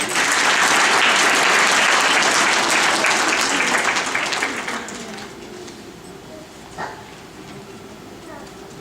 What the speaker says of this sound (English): give all these graduates a big round of applause